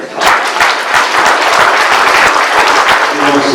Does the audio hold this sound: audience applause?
yes